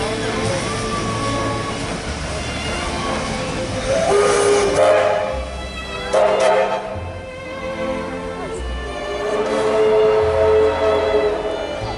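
A steam locomotive at a heritage steam event sounds its whistle in several long blasts between rumbling, hissing train noise, fairly close and loud, with the rail clatter running underneath throughout.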